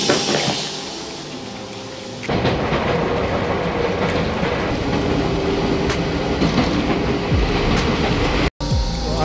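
A Kobe Electric Railway train runs toward Arima Onsen, its steady loud rumble and rhythmic clickety-clack filling the cabin, a brief dropout near the end.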